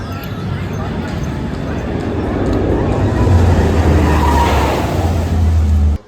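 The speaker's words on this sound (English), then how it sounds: "This was my last roller coaster ride of the day for my birthday." An amusement park roller coaster produces a loud, steady roaring rumble that builds and swells over the ride, with a deeper low rumble surging partway through.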